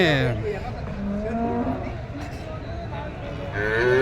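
Cattle moo loudly and close at a cow market, with long, deep lowing calls at the start and again near the end, over a bed of crowd chatter and background bustle.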